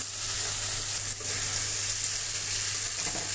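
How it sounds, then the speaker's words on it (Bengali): Spice mixture frying in a pan for a chickpea curry, a constant close hiss of sizzling oil with faint stirring underneath, no talking. "এটা কিছুক্ষণ কষিয়ে নেবে"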